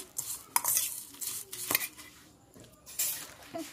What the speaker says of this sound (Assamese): এয়া পূৰা মিক্স কৰি দিছোঁ